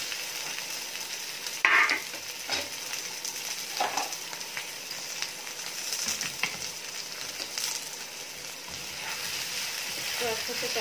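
Cut potatoes stir-fried in a pan with turmeric for jeera aloo, giving a steady close sizzle with scraping stirs and a sharp clatter near the start.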